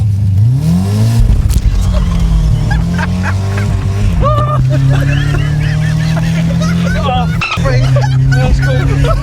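A Ford Sierra driving down a narrow Irish road, its engine droning loudly and steadily with rising and falling revs as it changes gear, while people talk excitedly inside the car.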